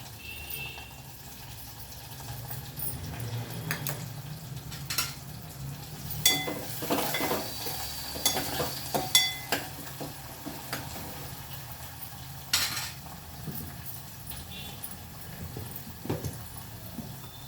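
Carrot and capsicum stir-fried in a pan for vegetable rice, with a low, steady sizzle broken by scattered scraping and clattering stirs from a spatula that grow busier in the middle.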